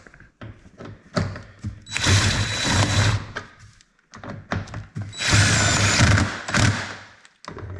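Bolts being tightened on a LINQ gun case mounting kit for a Can-Am HD11 Defender, heard as close mechanical whirring bursts from a power driver, two long runs separated by short clicks and thunks.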